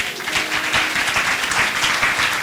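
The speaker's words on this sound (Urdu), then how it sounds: "تالیاں ماریں گے زوردار" Sustained audience applause at a Christian church gathering, dense steady clapping from a crowd throughout, fairly loud and continuous with no talk over it.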